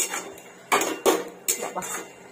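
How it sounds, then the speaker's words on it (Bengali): A spoon scrapes and knocks against a metal pan while mustard paste with salt, sugar and turmeric is stirred, giving a few sharp clinks and scrapes at irregular intervals, close and fairly clear. "দিয়ে দিলাম নুন, মিষ্টি, হলুদ দিয়ে এটাকে নাড়াচাড়া করতে থাকবো"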